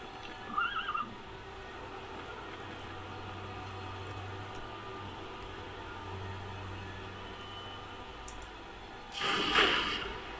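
A Minecraft horse gives a brief whinny early on, then a louder neigh or snort burst near the end, over a faint steady background hum, with no one talking.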